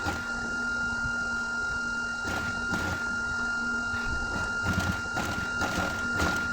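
A sewing machine stitches the edge of a shalwar cuff in a steady, continuous whirring hum with occasional light knocks. It is close and fairly loud, with no talking.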